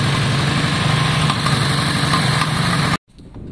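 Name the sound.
Yamaha Virago motorcycle engine idling with choke on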